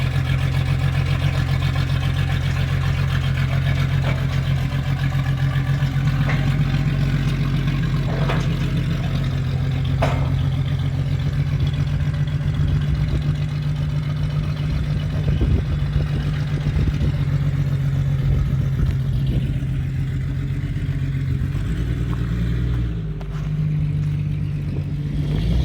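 An old jeep engine idles with a steady, rough low rumble from a leaky exhaust, running continuously close by with a few small clicks and knocks over it.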